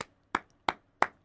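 Four sharp hand claps ring out alone in a quiet room, the first cut off at the start and the next three spaced evenly about a third of a second apart, each crisp and close.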